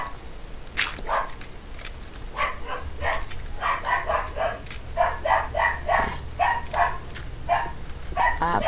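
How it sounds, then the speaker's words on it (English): A dog barking indoors in a burst of sharp, repeated barks, some in quick pairs and clusters, fairly near and loud over faint background noise. "Sorry about that. It's my dog."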